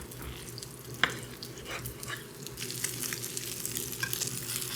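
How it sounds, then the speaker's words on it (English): Plant-based Beyond Sausage meatballs crisping in a pan make a soft, fairly quiet sizzle with occasional light scrapes and taps from turning them, with no talk. "These are starting to crisp up real nice. And you just want to make sure you get every side cooked."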